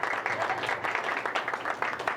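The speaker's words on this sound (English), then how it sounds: "So round of applause to our co-hosts." A crowd at a US Senate campaign event applauds the co-hosts in a brief burst of close, busy clapping.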